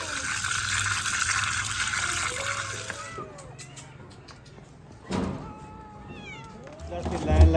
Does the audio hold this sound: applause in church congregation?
no